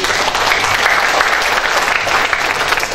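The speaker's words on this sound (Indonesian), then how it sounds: "jadi tepuk tangan untuk" Audience applause at the opening of a veterans' association congress in a Malang hotel hall, honouring the late Mas Iman: a loud, dense, sustained burst of clapping from a crowd filling the room.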